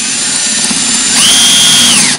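Power drill boring into a cinder block wall, a loud close grinding whir that rises into a higher steady whine midway before stopping abruptly, with no talk.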